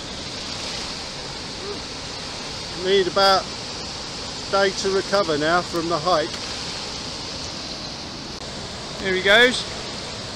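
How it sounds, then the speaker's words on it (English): A raging river rushes as a steady broadband roar that fills the whole clip, with people talking briefly over it near the start and again near the end. "we've ended up at a raging river"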